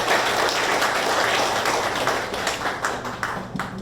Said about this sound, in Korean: 힘찬 박수를 부탁드리겠습니다.